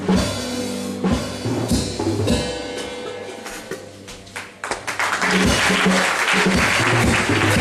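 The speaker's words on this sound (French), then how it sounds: "Continuons à applaudir pour Jésus." A church congregation applauds throughout a deliverance and healing prayer service, dense clapping continuing steadily and swelling louder toward the end, with a voice and sustained tones mixed underneath.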